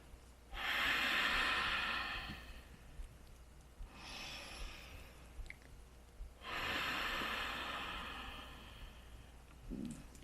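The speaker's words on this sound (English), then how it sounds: "one more breath here." Three slow, deep breaths during a hip-opening yoga session, each a long airy inhale or exhale, close and clear, separated by quiet pauses.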